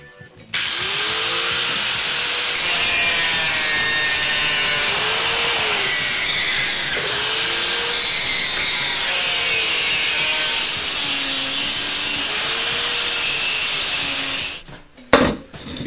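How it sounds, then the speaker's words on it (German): An angle grinder cutting with a steady high-pitched whine and harsh grinding, its pitch wavering as it bites into metal, then cutting off abruptly. "Jetzt wird Zeit für die Flex."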